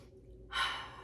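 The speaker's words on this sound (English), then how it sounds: "Let's take a nice, easy breath together." A single slow, deep breath during a guided calming exercise, a quiet airy inhale swelling in the second half, close and soft.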